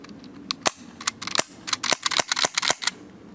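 Novritsch SSX-23 airsoft pistol fired with no suppressor: a quick run of about a dozen sharp, snappy cracks, some spaced and some in fast bursts, close and fairly loud against a quiet background.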